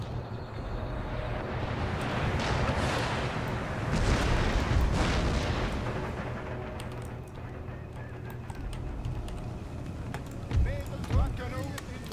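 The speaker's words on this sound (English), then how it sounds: "Yep, their counter battery has begun." Artillery counter-battery fire in the Empire Total War video game, rolling booms and rumbling blasts building and fading over several seconds, with sharper distant cracks near the end.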